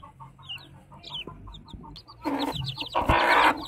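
A hen clucks in a steady, soft series while her newly hatched chicks peep in high, rapid chirps nearby, and the clucking swells louder and more agitated toward the end.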